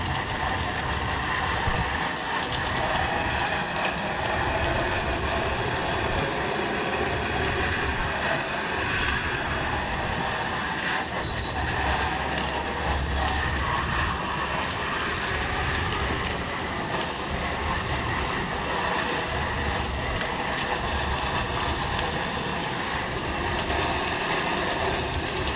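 A pressure washer line sprays water in a steady, continuous hiss and rush while rinsing a house's siding after a roof wash, with an engine drone underneath throughout and no pauses.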